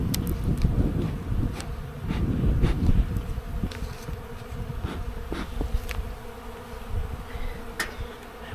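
Honeybees drone and buzz steadily at an opened hive, a dense close hum with brief louder passes of individual bees near the hive and a low rumble of handling beneath.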